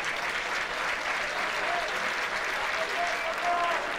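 Home crowd at a Kavala versus Panserraikos football match applauds a substituted player, steady sustained clapping from a large stadium crowd with no pauses.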